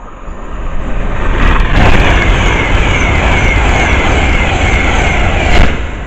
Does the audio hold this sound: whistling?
no